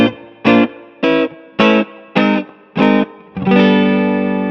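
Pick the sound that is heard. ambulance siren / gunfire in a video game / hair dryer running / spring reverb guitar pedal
spring reverb guitar pedal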